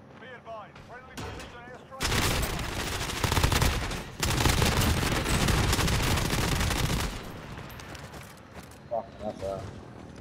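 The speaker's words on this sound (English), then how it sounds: "I'll drop the airstrike for one, they'll come running in." Heavy airstrike explosions in Call of Duty: Modern Warfare erupt in a loud, sustained barrage of blasts and rumbling lasting several seconds, with quieter game sounds and brief voices before and after.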